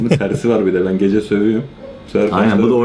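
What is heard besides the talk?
No everyday noises stand out.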